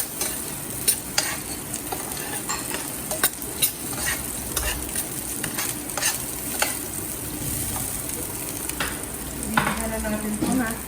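Garlic and onion sauté in a little oil in a hot kawali for bulalo steak: a close, steady sizzle with frequent clatters and scrapes of stirring, and no talk.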